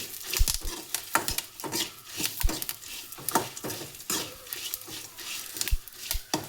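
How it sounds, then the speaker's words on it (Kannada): Drumstick sambar being stirred in a pot, a ladle scraping and knocking against the metal sides in irregular bursts with light clinks, close and moderately loud, no voices. "ಸಾಂಬಾರನ್ನ ಚೆನ್ನಾಗಿ ಈ ಥರ ಹುರ್ಕೋಬೇಕು."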